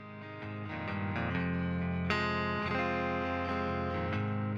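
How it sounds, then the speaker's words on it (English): Electric guitar recorded out of an amplifier rings through sustained, effect-laden chords with a slight chorus shimmer, swelling in at the start and holding steady with a fresh strum midway, alone and close. "I actually recorded out of my amp behind me for one of the other electric guitars,"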